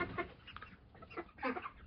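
Chickens and roosters on a small farm homestead cluck in several short overlapping bursts, close and fairly soft, with a louder flurry of clucks near the end and no talking.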